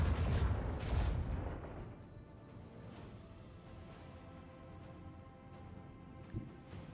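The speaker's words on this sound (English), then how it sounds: "Macro cannons, open fire." Macro cannons in a video game open fire with two heavy booming blasts up front, then a long rumbling tail with scattered distant thuds, fairly quiet overall and without speech.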